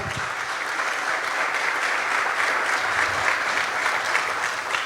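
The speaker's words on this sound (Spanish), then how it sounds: "Dale un aplauso al Rey" A church congregation bursts into sustained applause during a sermon, a dense, even wash of many hands clapping at steady volume for several seconds.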